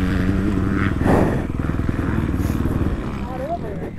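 Kawasaki KX250F motocross bike engine pulling in second gear on a track, a loud close buzzing drone that rises and steadies, with a rider's voice over it.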